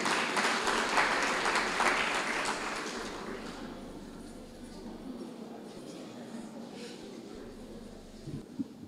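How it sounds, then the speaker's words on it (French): An audience at a formal opening ceremony of a JCI chapter in Senegal claps loudly and steadily, then the applause gradually fades to scattered claps over several seconds. "je vais vous demander de les applaudir très très fort."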